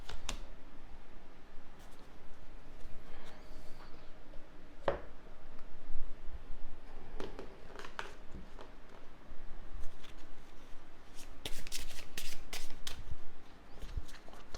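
Oracle cards being shuffled for a reading give soft, close riffling and tapping with scattered sharp clicks, broken by short pauses.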